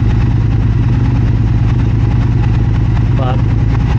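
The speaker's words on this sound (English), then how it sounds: "now the idle's lowering, so I'm noticing it being a little more lumpy, but it is a parallel twin." A 2022 Triumph Speed Twin parallel-twin motorcycle engine idles steadily and loudly up close, a dense low lumpy rumble throughout with a brief tonal blip near the end.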